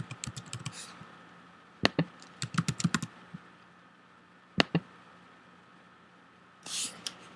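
Keys on a computer keyboard tapped in short bursts while a student's first and last name are entered, with quiet gaps between clusters of clicks and a brief softer rustle near the end.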